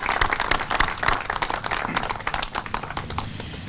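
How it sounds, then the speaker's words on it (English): A crowd applauds at an outdoor rail trail groundbreaking ceremony, with loud, busy clapping and sharp individual claps standing out through the whole stretch. "Let's give everybody a round of applause as helped make this happen."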